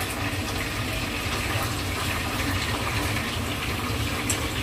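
Hot water from cooked food pours off during draining, a dense continuous rushing splash, close and steady throughout, without speech.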